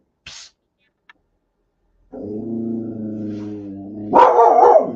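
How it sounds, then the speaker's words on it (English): A dog named Harley barks in a short burst near the end, loud and close, after a sustained harmonic whine or howl and a faint hiss and click earlier. "Now she's barking at a shadow or something like that."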